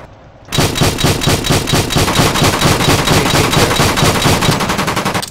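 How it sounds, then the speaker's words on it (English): Sustained rapid automatic gunfire in the World War II Online: Battleground Europe video game bursts in after a brief quiet start, loud, close and rhythmic, continuing without pause to the end. "they're shooting at me"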